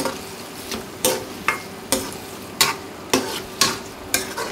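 A ladle stirs tomato pieces into fried ginger in a pan for a vankaya tomato chicken curry, with regular scraping strokes about every second over a steady sizzle, close and alone.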